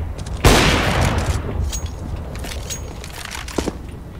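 A grenade blast and gunfire in the game CS:GO, with a sharp loud boom followed by a rolling rumble and scattered shots that fade over several seconds.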